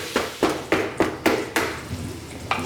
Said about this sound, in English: I want to hear that sizzle still, because that's how I'm going to get the good browning of the meat.